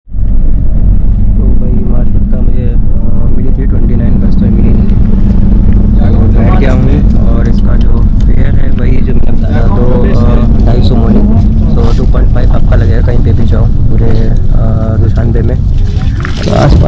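Steady low engine rumble and road noise from a crowded minivan on a road, with harsh driving and sudden acceleration, running continuously under close talk from passengers throughout.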